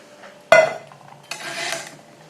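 Metal pans from a methylated-spirit camping stove set clatter together nearby: one sharp ringing clank, then a softer scraping rattle a moment later.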